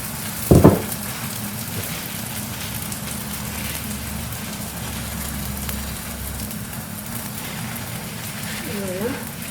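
Msemen flatbread frying in oil in a pan, a steady soft crackle and hiss of bubbling oil with a brief louder clatter near the start.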